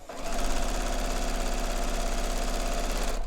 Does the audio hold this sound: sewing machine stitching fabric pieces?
yes